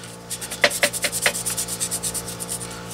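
Sandpaper rubbing over a plastic Skullcrawler action figure, a quick run of rhythmic back-and-forth scratchy strokes, close and steady, with no talking.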